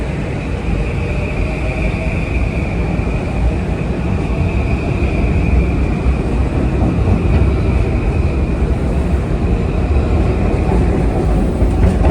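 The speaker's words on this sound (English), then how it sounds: "These M8s will get a good workout on this clunker to New Haven." A Metro North M8 electric train at Harlem 125 rumbles steadily and loudly close by, with a constant roar and a faint high whine holding throughout.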